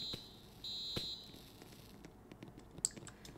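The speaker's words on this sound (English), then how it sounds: "Fire alarm." A fire alarm in the video game Roblox Brookhaven RP gives two faint, high electronic beeps, followed by scattered soft clicks and taps against a low background hum.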